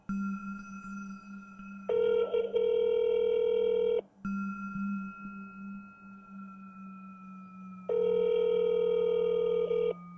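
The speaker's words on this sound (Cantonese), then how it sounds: "佢再撥多次電話喎。" A telephone rings out through a Google Voice call after redialing, with repeated electronic ring bursts separated by a steady tone, clear and alone.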